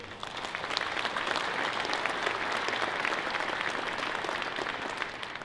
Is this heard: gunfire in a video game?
no